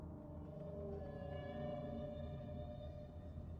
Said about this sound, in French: Ce n'est qu'une baleine.